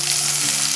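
Chopped tomato with cashew, coconut and raisins frying in a pan, a loud, close, steady hiss lasting under a second, with no speech.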